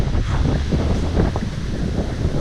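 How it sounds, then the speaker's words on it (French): Strong wind blows along the seafront in a loud, continuous rush that buffets the microphone, with a steady low rumble and no pause. "J'arrive le long de la mer, c'est très venteux."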